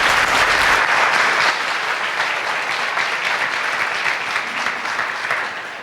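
An audience at an anniversary celebration event gives sustained applause, a loud, continuous mass of clapping that tapers slightly toward the end.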